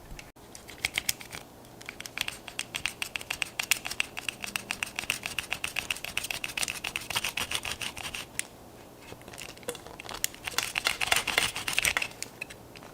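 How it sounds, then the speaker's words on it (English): A knife saws through rubber coolant hose during a Honda S2000 overflow tank install, a dense run of close, rapid crackling and scraping strokes with brief pauses, no voices. "since this is rubber, it cuts pretty easily with a knife"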